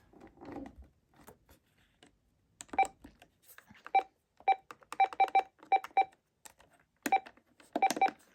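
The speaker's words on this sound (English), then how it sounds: "the keytone sounds on all the buttons" Key tones from the keypad buttons of an RCA 25424RE1-A telephone: a series of short, clear beeps, single and in quick runs, pressed one after another at close range, with faint handling clicks between them and no talk.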